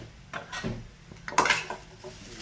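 Leftover chapati noodles tossed with garam masala and pepper powder in a pan, a spoon scraping and clinking against the metal in a few uneven strokes, fairly quiet and close.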